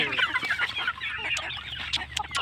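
Chickens scramble and peck at chopped banana stalk close by, clucking in short overlapping bursts amid scratchy rustling.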